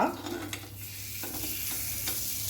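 Jackfruit batter cooking on a hot non-stick tawa, a steady low sizzle with a few soft scraping touches from a utensil, heard close with no one talking.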